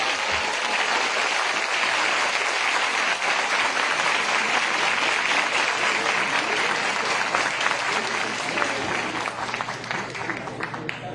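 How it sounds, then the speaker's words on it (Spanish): Steady applause from an audience at a Mexican school event on hydrogen, broad and continuous at moderate distance, tapering slightly toward the end. "Un aplauso para él."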